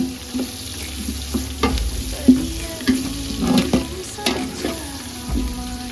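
Onions frying for mutton biryani, sizzling steadily while a spoon scrapes and stirs them in repeated close strokes, with no talking.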